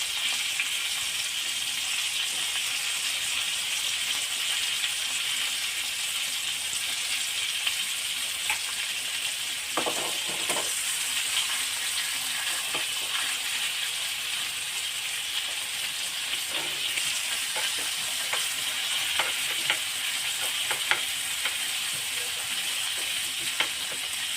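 Chicken breast frying with garlic in a pan for a Marathi-style honey garlic recipe, a continuous close hiss and sizzle with occasional scraping stirs and clinks, no talking.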